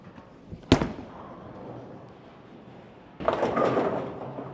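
At a bowling alley, a sharp early thud is followed by a low rolling rumble, then a clattering crash of the ball striking the pins near the end.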